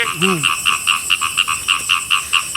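A golden frog croaks at night in pitch-dark outdoor surroundings near water, giving a steady series of about a dozen rhythmic, close, fairly loud calls. A brief voice-like whoop is heard near the start.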